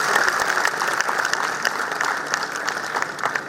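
An audience at an opening ceremony applauds volunteers with steady, moderately loud clapping that lasts the whole brief moment.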